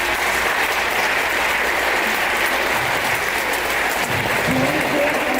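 A stage audience applauds steadily throughout, a dense wash of many clapping hands that stays loud and even with no voices breaking through.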